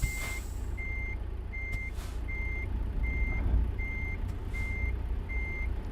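A truck in American Truck Simulator gives off steady, evenly spaced reversing beeps over a low diesel idle. Eight or so clear tones repeat at a regular rhythm, with a brief hiss partway through.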